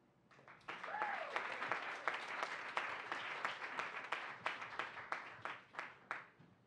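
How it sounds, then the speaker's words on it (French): A small audience claps for a speaker at a talk about arts and culture funding, the applause rising quickly and continuing as a fairly close patter of distinct claps that thins toward the end, with a brief voice near the start. "Merci d'être généreux en applaudissements."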